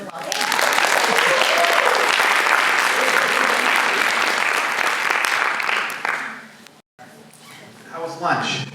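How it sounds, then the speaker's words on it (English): An audience at an education symposium gives a loud, sustained round of applause for about six seconds, then it fades as a voice begins speaking. "And we give them a round of applause."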